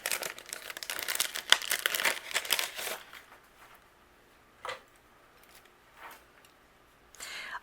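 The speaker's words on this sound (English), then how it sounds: "I will die cut out all of my images here" Paper images are die cut and separated from the dies, giving crisp crinkling and tearing rustles over the first three seconds, then a few brief, faint paper crackles separated by near silence.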